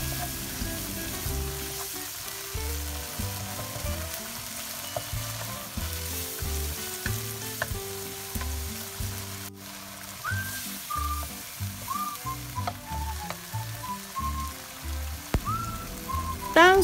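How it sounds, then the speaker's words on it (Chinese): Dried prawn sambal with minced pork and coconut sugar stir-fried in a wok, a continuous soft sizzle with repeated spatula scrapes and stirring knocks, no voices. "然后继续翻炒。"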